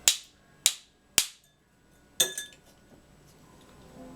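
Ice for a whiskey cocktail is cracked with three sharp, close cracks in quick succession, then a fourth that breaks into a brief rattle of shards.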